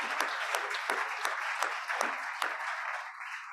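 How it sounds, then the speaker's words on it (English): A round of applause at a lunch meeting, moderate and fairly close, with a steady patter of many hands and a few louder claps punctuating it, fading slightly near the end. "let's give one more round of applause."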